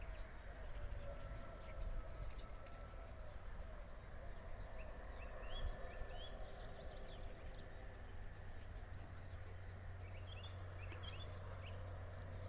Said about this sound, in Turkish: Kuşlar cıvıl cıvıl ve güzel bir manzara.